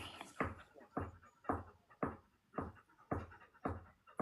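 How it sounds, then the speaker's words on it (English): A dog's tail thumps repeatedly against a chair in a steady, regular rhythm, about two beats per second, fairly close and loud with no talking over it. "Can anybody hear my dog's tail hitting the chair?"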